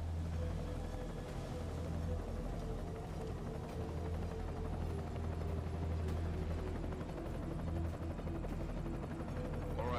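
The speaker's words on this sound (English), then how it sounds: "Enemy helo sighted." Low, steady rotor and engine rumble of an enemy helicopter hovering in the video game Deus Ex: Mankind Divided, a continuous drone held at a constant level with no speech.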